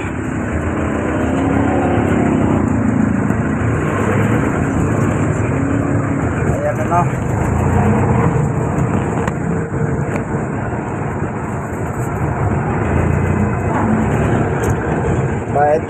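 Steady engine rumble and road noise from a jeepney riding through traffic in Tondo, Manila, continuous and fairly loud, with a passenger's voice speaking briefly over it.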